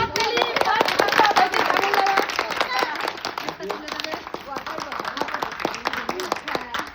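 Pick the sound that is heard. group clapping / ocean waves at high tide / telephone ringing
group clapping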